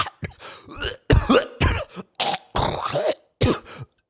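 A run of loud, close coughs and raspy throat clearing, several bursts in quick succession with short pauses between them.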